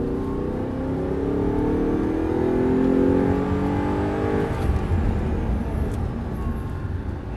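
Audi R8 V8 engine accelerating hard, a loud close drone whose pitch climbs steadily before easing into a sustained roar at full throttle.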